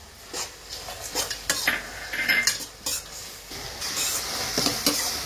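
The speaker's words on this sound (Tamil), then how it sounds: "இப்போ எறா நல்லா வதங்கி வந்துக்குதுங்க." Prawns and cashew nuts sauté in a pan while a spoon stirs them, with irregular scraping and clinking over a low sizzle, close and fairly loud.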